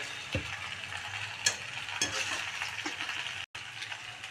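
Pasta tossed with pasta masala in a pan sizzles softly while a spoon scrapes and clacks against the metal, giving several brief knocks over a steady low frying hiss.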